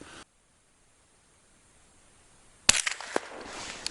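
A shotgun blast fired at a hazel grouse on a hunt, one sharp loud report following a quiet stretch of forest, with a brief burst of rustling and handling noise just after.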